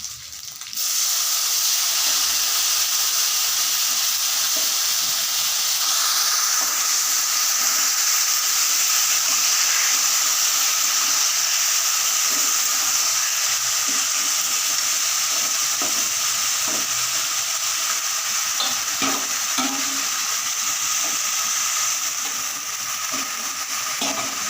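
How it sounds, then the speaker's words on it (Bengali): Dried fish frying in a pan as drained taro greens go in, giving a loud, steady sizzle and crackle with occasional stirring scrapes throughout. "এখন আমি জল ঝরিয়ে রাখা কচুর শাকগুলোকে দিয়ে দিচ্ছি"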